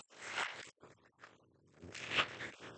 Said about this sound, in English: I'm not doing a great job of cutting this one. My X-Acto knife is loose.